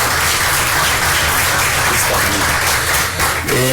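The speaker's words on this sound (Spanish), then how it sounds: "dándole desde luego un aplauso por su interesante conferencia" An audience at a keynote lecture on the social dimension of energy efficiency policy applauds the speaker, a steady, fairly loud wash of clapping with a low room rumble beneath and a voice emerging at the very end.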